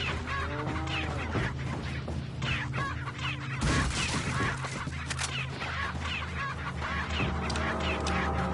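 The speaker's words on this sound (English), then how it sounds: "Chickens, calm down." Chickens in a farm area of the video game Resident Evil 4 cluck and squawk in a busy, overlapping flurry, fairly loud against background game ambience, with a sharp burst partway through.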